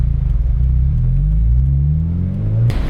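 A 2008 Mazda MX-5 Miata's engine rumbles loudly and steadily from up close, its low tone rising slightly as the car rolls, then ending with a brief rustle.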